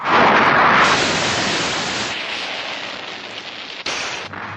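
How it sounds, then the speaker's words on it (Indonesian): Warehouse explosion in the Bioman TV series: a loud burst of noisy rumble that slowly fades, followed by a brief sharp crack near the end. "Mechak Leon meledakkan gudang itu"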